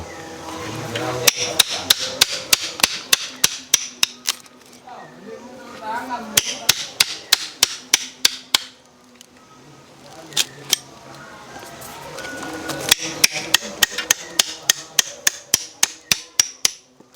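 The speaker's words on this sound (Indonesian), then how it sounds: "Pahat lagi ya." A chisel is struck repeatedly with a hammer into wood, sharp loud taps coming in quick bursts separated by short pauses, close by, with some scraping between the strikes.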